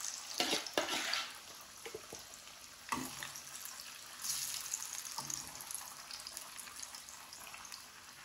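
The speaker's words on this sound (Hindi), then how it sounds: "मैंने गरम कर लिया और इसमें अब डाल देंगे आलू।" Potatoes fry in hot oil over low heat, producing a soft, fairly quiet sizzle with a few louder crackling bursts and light stirring or handling noises near the start.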